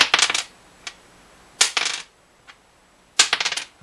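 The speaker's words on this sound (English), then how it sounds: "here's what the bone nut sounds like" Bone nut for a Martin guitar giving bright, close clinking taps in three quick clustered bursts, with a couple of single light ticks between them and no voices.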